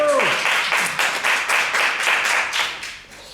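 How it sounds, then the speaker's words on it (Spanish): Applause for a guest speaker at a film-forum talk on critics: a strong burst of many hands clapping that starts right after a voice trails off, holding steady at close range before fading near the end. "Un fuerte aplauso para Carlos Aguilar."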